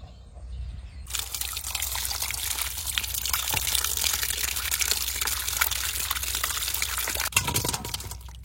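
Cleaned tangra fish are washed under running water, a loud steady gush and splash that begins abruptly after a quiet second and continues close by until a brief clatter near the end.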